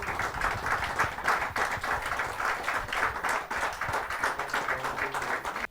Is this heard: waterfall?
no